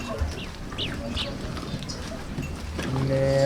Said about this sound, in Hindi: ये भाई कामोरी नस्ल की बकरी है।